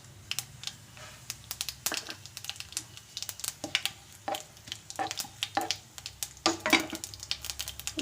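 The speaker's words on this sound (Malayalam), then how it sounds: "വെച്ചിരുന്ന ആ എണ്ണയിൽ തന്നെ നമുക്ക് സ്വല്പം കടുക് ഇട്ട് കൊടുക്കാം." Mustard seeds splutter in hot oil in a pan, giving irregular, sharp, close-up pops and crackles in quick clusters over a low sizzle, with no voices.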